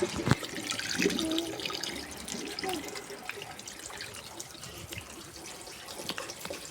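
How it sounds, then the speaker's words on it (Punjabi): Water from a hose splashes and sprays steadily, a broad hiss with scattered drips and splatters, fairly close and moderately loud, with no talking. "ਮੇਰੇ ਤੇ ਪਾਣੀ ਪਾਈ ਜਾਂਦਾ ਠੰਡ ਲੱਗੀ ਪਈ ਹੈ ਪਾਣੀ ਵੇਸਟ ਕਰੀ ਜਾਂਦਾ"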